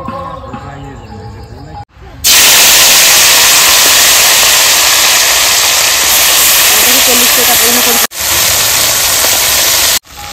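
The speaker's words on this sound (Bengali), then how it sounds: "কড়াই গরম হয়ে গেছে, কড়াইয়ে দিয়ে দেবো সরিষার তেল।" Mustard oil sizzles loudly in a hot wok, a sudden bright, dense hiss that starts abruptly, holds steady and is briefly interrupted twice.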